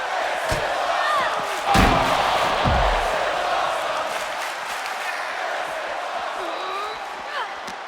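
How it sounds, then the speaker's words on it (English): A virtual arena crowd roars in the wrestling game WWE 2K23, a loud sustained wall of cheering with heavy slams and thuds early on and commentary voices over it. "Just listen to the crowd roar."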